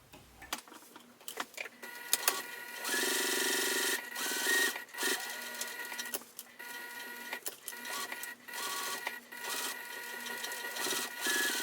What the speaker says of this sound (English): I'm going to go ahead and top stitch around here, close up that opening gap